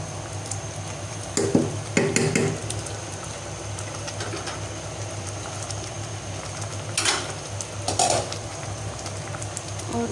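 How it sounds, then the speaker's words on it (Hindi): A tadka for dal sizzles and crackles in a pan with faint stirring, a steady frying hiss broken by a few brief louder spatters, heard close with no talking. "बस तड़का ही लगाऊंगी"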